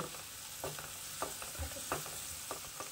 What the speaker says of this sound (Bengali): দিয়ে পেঁয়াজটা একটু ভাজা ভাজা করব।